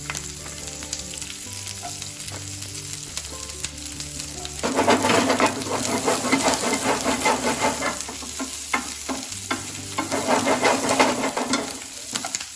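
Onions and green chilies tossed and stirred in a hot frying pan for beer-fried chili chicken, a steady close sizzle that swells louder midway with scraping stirs and clattering bursts, no talk.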